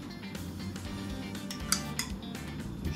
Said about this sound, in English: spoon it onto your baking tray